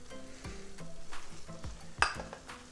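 Tofu sizzling in a pan as turmeric is spread over it for a scramble, with a steady fry hiss and several rhythmic spatula scrapes, one sharper clink near the end.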